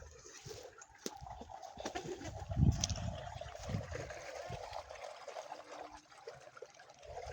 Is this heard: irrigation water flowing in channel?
yes